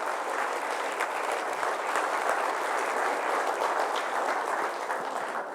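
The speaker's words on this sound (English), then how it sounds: "Let's give a big round of applause to ourselves." Sustained audience applause from a seated crowd at a corporate talk on building a growth culture, steady dense clapping filling the whole stretch at full strength without a break.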